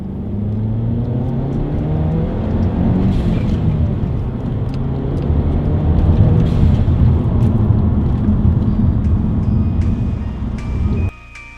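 A modified-intake 2013 Mazda 3 MPS pulls hard in second gear from a roll-on, its engine a loud, steady, rising drone that holds for about eleven seconds before cutting off abruptly at the end.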